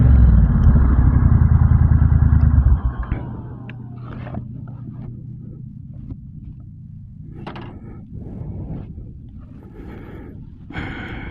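A 2022 Triumph Bonneville T120 motorcycle rumbles loudly and steadily for a few seconds, then cuts off, leaving quieter handling noises, clicks and faint breaths.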